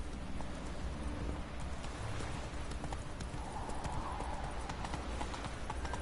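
Horse hooves in The Witcher 3 clopping steadily along a path, a rhythmic clip-clop of a trotting mount with ambient game sound, and a brief whinny hinted near the middle.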